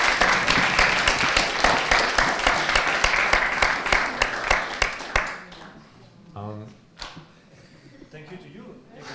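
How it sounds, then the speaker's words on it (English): Audience at an AI safety panel event in Lausanne breaks into loud, steady applause that fades after about five seconds, followed by scattered voices and quieter room noise. "So please one big round of applause for all of this."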